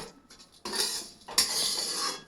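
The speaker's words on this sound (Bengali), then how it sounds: "মা দিচ্ছে আর আমি এক হাত দিয়ে নাড়া দিচ্ছি।" Ghee-fried vermicelli is stirred into milk in a pot, giving soft metallic scraping and swishing of a spoon against the vessel in two sustained bursts with a short pause between.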